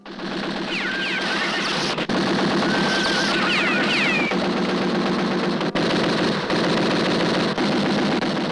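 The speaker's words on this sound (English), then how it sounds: "Klein, shoot him dead." Rapid machine-gun and rifle fire rattles continuously in a film gunfight, dense loud bursts with brief gaps and ricochet-like whines, no talking.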